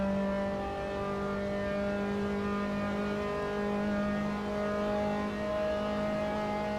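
F3 race car engine in Assetto Corsa at Paul Ricard, a steady high-pitched drone holding near-constant revs with slight pitch shifts throughout, loud and close with no talk over it.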